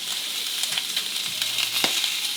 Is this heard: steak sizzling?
yes